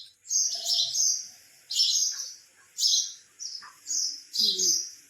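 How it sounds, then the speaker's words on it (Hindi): Birds chirp in the morning in a home setting, giving five or six bright, repeated calls at a steady rhythm, moderately close and clear, with faint household sounds between them. "चिड़िया को खाना नहीं मिला, चुई चुई कर रही है सुबह से"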